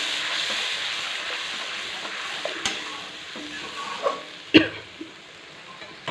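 Masala for kofta frying in oil, a steady low sizzle under intermittent scraping strokes of a spoon stirring the pan, with a couple of sharper clacks against the metal.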